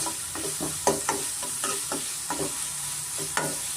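Ginger garlic paste and green chilli paste fry in a pan for tomato egg rice, with a steady sizzle broken by repeated spoon strokes scraping and stirring at a regular pace, close and fairly loud.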